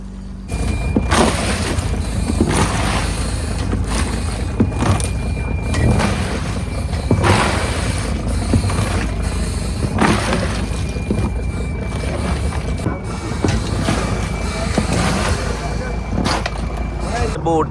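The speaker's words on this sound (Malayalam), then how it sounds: "ബോട്ട് വലിച്ചുകൊണ്ടിരിക്കണം." A deep-sea fishing boat working off Kollam runs its engine steadily while hauling a conch net. It makes a loud, continuous low rumble with surges of broadband wash and churn throughout.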